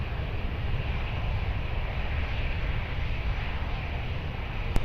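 An airplane approaches runway 20 at Lisbon Airport, heard as a steady broadband engine roar, moderately loud and unbroken, with no voices.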